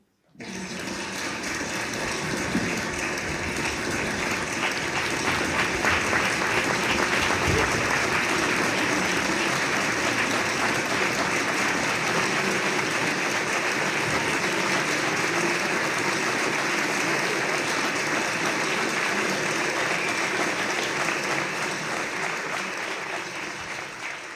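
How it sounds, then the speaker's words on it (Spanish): Theatre audience applauding at the close of a play, sustained dense clapping that fills the whole stretch at steady loudness from start to finish. "Aplaudid sin miedo, si amigos somos."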